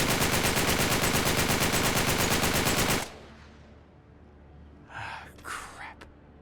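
Rapid automatic gunfire from Nathan Drake's gun in Uncharted 3 rattles loudly for about three seconds, then stops abruptly, followed by a few quieter breathy bursts.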